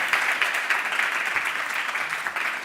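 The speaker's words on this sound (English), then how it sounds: "A round of applause, please, for Sofia and Ural." Audience applause after a panel talk on sustainability in women's football, a brisk, even patter of many hands clapping at moderate loudness without a pause.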